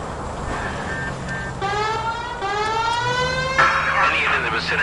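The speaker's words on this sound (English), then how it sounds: "You know, we got a siren, Phelps." A police siren in the video game L.A. Noire wails in rising and falling sweeps over a low engine rumble, with a voice talking over it.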